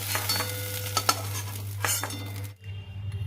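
Pointed gourd (potol) frying in a pan while being stirred: continuous sizzling under sharp metallic scrapes and clinks of a utensil, close and fairly loud, then a sudden drop to near quiet with faint crackle.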